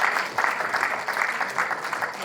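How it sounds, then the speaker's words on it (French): An audience applauds performers at a Kyrgyz evening, steady close clapping that swells and dips slightly in waves, with no talk over it. "un grand merci, on va encore les applaudir"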